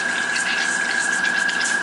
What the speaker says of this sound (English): And then clean out the brush. I just use water to clean this out.